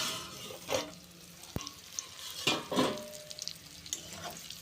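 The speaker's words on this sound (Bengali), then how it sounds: "তো দেখো পটলগুলো আমার প্রায় ভাজাই হয়ে গেছে।" Pointed gourd (potol) fries in a covered pan over a low gas flame with poppy-seed spices, giving a soft, steady sizzle with a few brief clatters of the lid or utensil, and nobody speaking.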